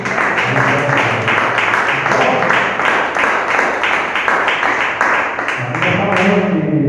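A church congregation claps in steady rhythm during a worship service, loud, close and continuous, with voices mixed in.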